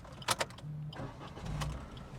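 A 2023 Maruti Alto K10 AGS petrol engine starts with a brief sharp crank, then settles into a steady, low idle hum, heard close up and fairly quiet.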